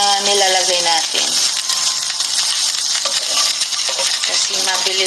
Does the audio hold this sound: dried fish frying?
yes